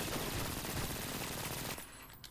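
Rapid gunfire from Brink, a loud burst of machine-gun shots lasting nearly two seconds that stops abruptly and leaves a faint tail.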